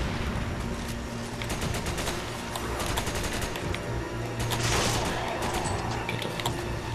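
Rapid bursts of video game gunfire from Resident Evil 5 in co-op play, dense and continuous with sharp volleys and a heavier blast near the middle, loud throughout with no talk.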